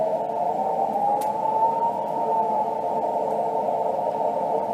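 An unidentified radio signal on an amateur shortwave band, heard as a steady, continuous droning hum with faint warbling tones over a constant static hiss.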